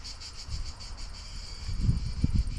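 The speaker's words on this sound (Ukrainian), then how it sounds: "Цикади тріщать." Cicadas shrill steadily in a Greek garden with grapevines, tomatoes, peppers and corn on a summer trip, a continuous high buzzing drone filling the whole stretch with low rumble beneath.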